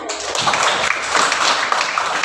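Students in a classroom clap together, a dense, continuous patter of many hands applauding at close range for a couple of seconds.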